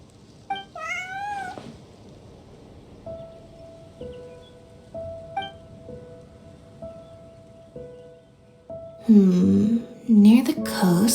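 A cat in the video game Genshin Impact meows briefly near the start and again with several closer, louder mews at the end, separated by soft chiming game tones.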